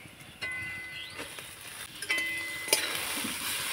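Grated raw potato being stirred and lightly fried in a pan, giving a soft, quiet sizzle broken by a few scraping stirs and small utensil clinks.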